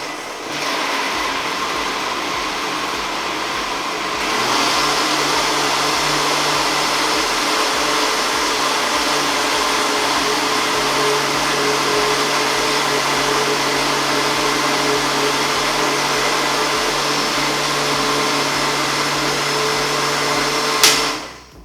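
An electric blender whirs loudly, blending a protein breakfast mixture. After a brief lower start, the motor settles into a constant, close whine that runs uninterrupted and ends with a short clunk.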